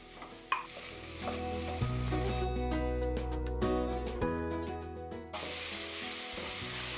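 Ground meat, 300 grams, tipped onto sautéed vegetables and stirred, with a steady loud sizzle and frying hiss throughout and scraping strokes layered over a low tonal hum.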